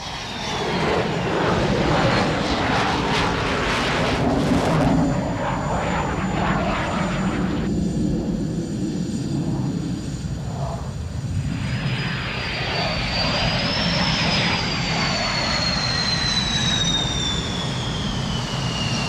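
Loud jet aircraft roar past continuously at an air show, engines rumbling and whining with a rising, sweeping tone as they fly by.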